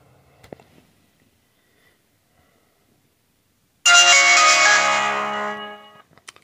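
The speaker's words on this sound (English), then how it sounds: "You should also hear a beeping sound, guys, like beep, beep" Silence, then a Vivitar outdoor Wi-Fi camera powers on with a loud electronic melodic tone for about two seconds that fades, followed by faint clicks.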